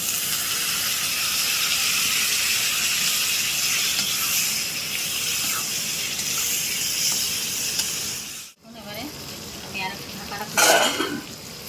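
Water hitting chicken masala in a hot pan, giving a loud steady sizzle and hiss with stirring scrapes, a brief break, then a fresh burst of sizzling.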